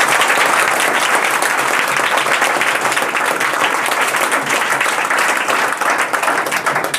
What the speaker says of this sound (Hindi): एक बार ताली बजाकर न्यू